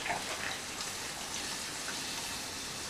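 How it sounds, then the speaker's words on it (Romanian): Milk poured into a lasagna sauce makes a soft, continuous liquid gush lasting a few seconds, fairly faint and with no voices. "Și adăugăm lapte"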